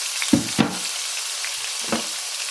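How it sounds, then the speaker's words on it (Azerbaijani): Chopped meat dropped into hot butter in a pot, with a couple of sharp hissing bursts and a later spatter over a steady sizzling background. "Yağ yaxşıca qızdıqdan sonra doğranmış ətləri qazana əlavə edirəm."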